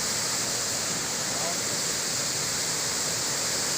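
A strong waterfall roars steadily and loudly at close range, a dense unbroken rush of falling water that fills the whole clip.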